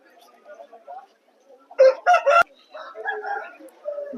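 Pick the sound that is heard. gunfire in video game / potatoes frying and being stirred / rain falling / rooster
rooster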